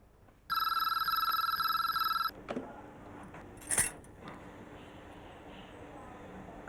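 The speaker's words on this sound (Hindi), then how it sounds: "चंदर का फोन लगता है।" A telephone rings in one sustained, shrill burst, then stops, followed by a few quiet clicks and handling noises in a still room.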